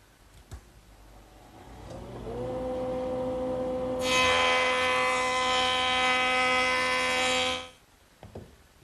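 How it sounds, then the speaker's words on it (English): A motor spins up to a steady, rising whine. It then bites into the edge of a curved wooden rail for a DIY console table, giving a loud, rough cutting roar for a few seconds before it stops abruptly. "Now I'm just going to plane the edge that I just scraped."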